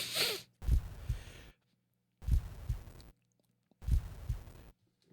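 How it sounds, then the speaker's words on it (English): Video game heartbeat effect: three slow, heavy double thumps in evenly spaced bursts, each trailed by a breathy rasp, with near silence in the gaps. "Why do I hear a heartbeat?"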